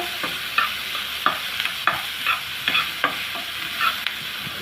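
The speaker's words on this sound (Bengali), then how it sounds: "পেঁয়াজটা আমি লাল লাল করে ভেজে নেব।" Chopped onions frying in oil, a steady sizzle punctuated by a regular series of sharp stirring scrapes and clinks, close and moderately loud.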